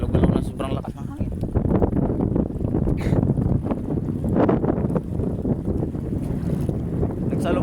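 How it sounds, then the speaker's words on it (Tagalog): Strong wind roars and buffets the microphone continuously, with a boat's rumble and water sounds beneath, and a voice faintly talking. "Galaw-galaw na sobrang lakas ng hangin."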